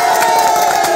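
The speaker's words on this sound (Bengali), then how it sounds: "তাদের জন্য একটা করা হাততালি।" Staff cheer and applaud together at a saree shop's celebration. A dense, loud burst of crowd noise fills the whole moment without a break.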